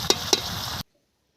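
Curry sautéing in a pan gives a brief sizzle with two quick stirring scrapes, close and fairly soft, then cuts to silence.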